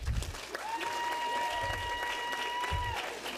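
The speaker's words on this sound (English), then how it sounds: "Round of applause" Applause from an audience at a senior awards night, sustained clapping filling the room while a steady electronic tone sounds over it and low bumps punctuate the background.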